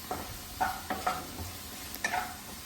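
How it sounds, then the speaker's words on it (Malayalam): Onion and salt sautéing in hot coconut oil in a pan, a steady sizzle broken by several scraping stirs of a spatula against the metal, close and clear with no talking. "വെളിച്ചെണ്ണ ചൂടായതിനു ശേഷം സവാള, ഉപ്പ് എന്നിവ ചേർത്ത് വഴറ്റുക"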